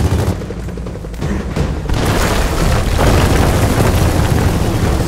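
Rocket explosions and heavy gunfire from the Kestrel helicopter attack in Gears of War 4, a dense, continuous roar of booms that swells louder in the second half with no gaps.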